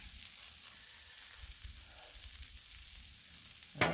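Pork fried rice sizzling on a Blackstone griddle outdoors, a steady hissing fry close by, with a brief scrape of a spatula at the end.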